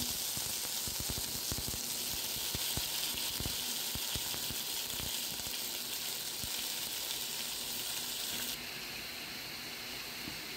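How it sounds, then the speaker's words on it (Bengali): Cut pumpkin and vegetables fry in oil with green chili and bay leaf, giving a continuous soft sizzle with scattered small crackles and pops, fairly quiet and unbroken by voices. "কাঁচা লঙ্কা, তেজপাতা ভালো করে ভেজে কেটে রাখা সবজিগুলি দিয়ে দেবো"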